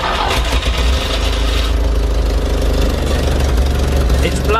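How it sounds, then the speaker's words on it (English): A vintage van engine idles loudly and close with its exhaust blowing from a leaking joint, a steady low rumble with a rapid puffing, knocking pulse throughout. "I've noticed that the exhaust is getting louder and louder"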